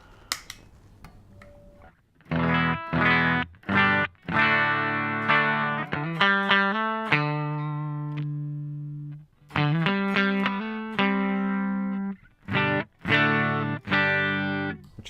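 A Fender Stratocaster played with a clean tone through a Triple Wreck pedal rings out in several chords and single notes, each left to sustain and decay, with short gaps between phrases and no talking.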